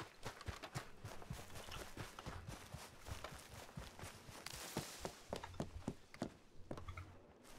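Horse hooves in Red Dead Redemption II roleplay clip-clop in a steady walking rhythm, quiet and somewhat distant, with soft ambient noise underneath.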